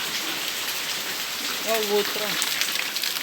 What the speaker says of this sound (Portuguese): pra ter noção como é que tá forte a chuva